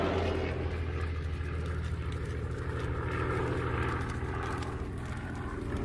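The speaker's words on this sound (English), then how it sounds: "Richthofen and his remaining 123 working bomber planes launch a series of raids on Grozny" World War II bomber planes fly over Grozny, their propeller engines droning as a deep, steady roar with a throbbing low hum, loud and continuous with no voices.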